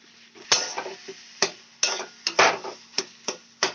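Vegetables for vegetable cutlets being sautéed in a pan, heard as a string of sharp spatula knocks and scrapes at an uneven rhythm, close and fairly loud with quiet gaps between strokes.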